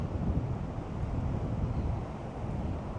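Strong wind roaring steadily beside the American side of Niagara Falls, a dense low rumble blending gusts with the falling water's constant roar, loud and continuous throughout.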